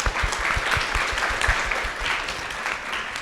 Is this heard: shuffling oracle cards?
no